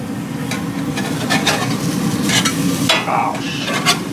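Meat sizzles loudly on a grill in a Gulf Coast mixed grill, a dense continuous hiss close by with scraping and tapping as pieces are flipped.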